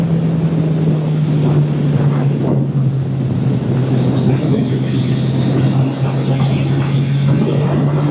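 An MV Agusta Superveloce motorcycle engine drones steadily with a low, constant hum, buried under heavy wind rush across the microphone.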